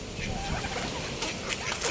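Turkeys at feeding time on a seaside chicken farm, a few faint clucking and gobbling calls scattered over steady outdoor noise, with a person talking nearby.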